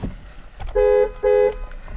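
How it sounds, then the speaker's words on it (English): Two loud, steady blasts of a Jeep Meridian 4x2 automatic SUV's horn, each about a quarter second long with a brief gap between them, sounding close and clear over a low background hum. "Let's listen to the horn firstly."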